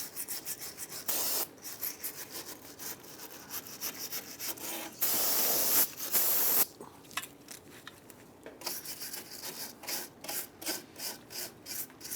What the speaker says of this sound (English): I'm going to use a bristle brush.